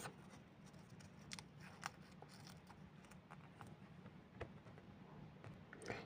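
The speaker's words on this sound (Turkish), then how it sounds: "Şöyle çıkan fazlalıkları makasla kesebilirsiniz" Quiet, repeated scissor snips trimming excess coloured paper and crisp paper crinkles come in irregular bursts against a soft background hiss, close and faint, while making small notebooks.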